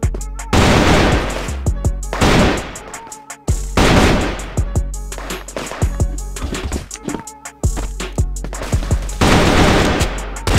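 FAMAS rifle fire in a video game: rapid bursts of loud, close gunshots in several volleys, with brief pauses between strings of shots.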